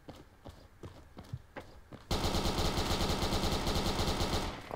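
Gunfire in Roblox Fireteam, a few spaced single shots followed by a sudden loud, sustained burst of rapid automatic fire, close and dense.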